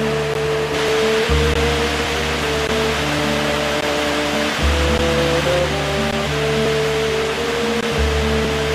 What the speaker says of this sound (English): stop to view this waterfall.